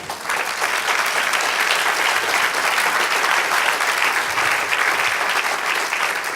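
A church congregation applauds continuously, dense steady clapping from many hands filling the room at a constant loud level for several seconds.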